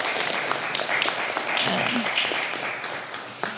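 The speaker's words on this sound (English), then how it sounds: "give yourselves a round of applause" Audience applause at a summit event, dense continuous clapping from a crowd filling the room at moderate loudness, steady throughout with no pause.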